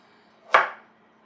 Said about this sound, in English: So I'm going to cut the carrots up